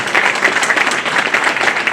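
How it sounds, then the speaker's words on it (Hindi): A group of people claps loudly for someone, a steady dense round of applause that runs unbroken through the short moment, close and lively. "तेरे लिए ताली बजवाओ, सबसे खड़ी हो"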